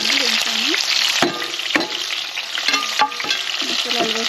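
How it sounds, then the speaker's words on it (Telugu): Masala spices with ginger and garlic frying in a pan, a steady loud sizzle broken by scraping stirs and occasional clinks, with faint voice-like tones drifting underneath. "మసాలాలు వేసుకొని అల్లం వెల్లుల్లి వేసుకుంటూ వేసుకున్నాను. వేసేసి ఇలా ఫ్రై చేసుకుంటున్నాను"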